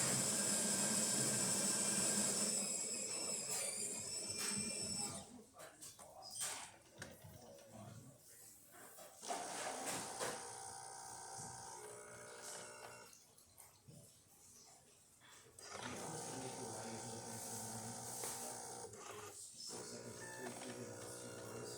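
A Jura espresso machine pulls a test shot after a full service, giving a loud steady pump whine and hum that breaks into sputtering, gurgling stretches before resuming, heard up close with faint talk in places.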